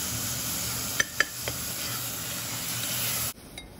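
Chopped tomato with salt, red chili and turmeric sizzles in a tadka for chana dal fry, a soft steady frying hiss with a few light utensil clicks before it drops away.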